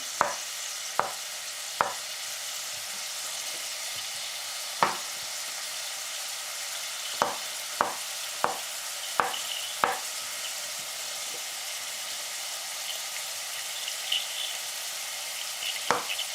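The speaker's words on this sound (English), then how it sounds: "So I'm just going to prep those real quick while my onions are sauteing" Onions sauté in a pan with a soft, even sizzle throughout, punctuated by a dozen sharp knocks or taps at irregular intervals, with no talking.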